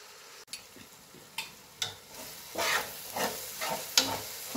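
Tomato paste fries and sizzles in a pan for a biryani, with a spoon scraping and stirring in several short, regular strokes close by and no voices.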